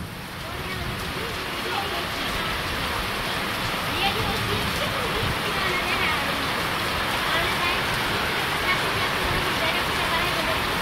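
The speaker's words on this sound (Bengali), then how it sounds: "আমার মনে হইতেছে এই বৃষ্টিটা কয়েকদিন থাকবো" Steady rain falls in a Bangladeshi village, a dense continuous patter and hiss close around, loud and unbroken for the whole stretch, with no voices.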